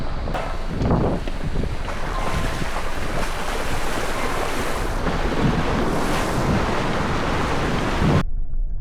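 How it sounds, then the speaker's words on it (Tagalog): A river rushes loudly and continuously, a strong churning current mixed with heavy wind buffeting, with no talking. "Medyo malakas yung agos ngayon ah."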